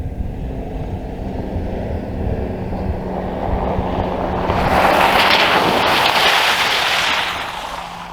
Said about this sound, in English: it's fun going through the mud.